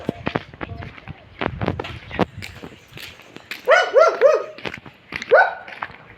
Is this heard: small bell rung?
no